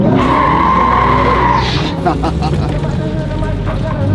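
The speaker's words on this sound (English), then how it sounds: "So that was about as hard as I've been on it since I've owned it" A 2024 Ford F-150 4x4 skids hard with a loud, continuous roar of engine and tire noise that stays close for about four seconds, and a brief squeal comes near the start.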